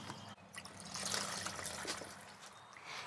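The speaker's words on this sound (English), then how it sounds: "just remove them and just dump the water." Water dumped out of a seedling tray, a steady trickling pour that swells in the middle and tapers off, close and alone with no talk.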